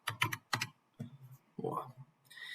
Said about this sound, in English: But if I wanted the name to appear as Chris, I would type Chris in here